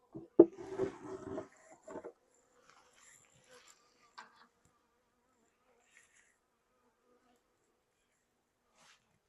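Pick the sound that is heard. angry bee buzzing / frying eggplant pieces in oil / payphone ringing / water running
angry bee buzzing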